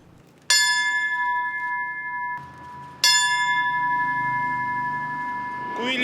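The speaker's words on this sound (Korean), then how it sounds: "소방관들을 추모하는 10번의 종소리가 울려 퍼집니다." Memorial bell tolling for 9/11 victims before the World Trade Center steel wreckage, two loud clear strikes with long ringing decay, another strike starting at the end.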